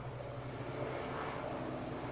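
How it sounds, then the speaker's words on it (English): Aircraft engine noise from helicopters passing overhead, a faint, steady drone with no break. "we got helicopters"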